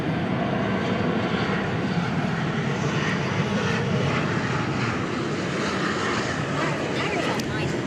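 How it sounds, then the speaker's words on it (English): A Turkish airliner takes off from the runway at DFW airport bound for Istanbul, its jet engines a loud, continuous broadband roar, with people talking over it. "Can't wait to see the Turkish take off for Istanbul."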